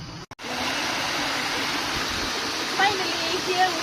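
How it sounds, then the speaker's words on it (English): A small stream flowing among trees on the way to a river, a steady close rush of water that fills the whole stretch without letting up. "hear the calming sound of small stream"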